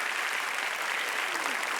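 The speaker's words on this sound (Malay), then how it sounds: "berikan tepukan kepada mereka" Debate audience applauding the debaters at a competition, a steady dense wash of clapping throughout, fairly distant, with faint voices mixed in.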